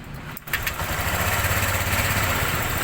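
Honda Click scooter with a cooling system problem starts up and settles into a steady, close idle with a constant mid-pitched engine drone.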